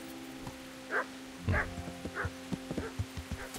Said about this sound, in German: Jetzt wird der Köter wach.